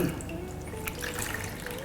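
A cloth dipped into water before wiping out a microwave, brief close sloshing and dripping of water, quiet and short, with no voice.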